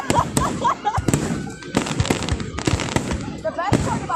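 Fourth of July fireworks display in Elk Grove Village, Illinois, with rapid crackling bursts and loud pops following one another, close and dense, as spectators shout excitedly over the barrage.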